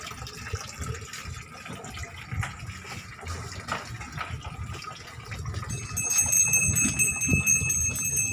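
Water runs out through the drain tap of a catfish rearing tank, a soft steady gush and trickle that grows slightly louder toward the end, with no talking.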